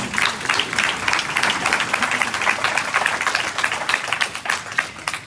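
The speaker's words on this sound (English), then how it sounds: "Please give them a round of applause." A crowd's round of applause fills a community gathering at a crisis center in the Bahamas, dense steady clapping from many hands with a few cheers mixed in, sustained at even loudness throughout.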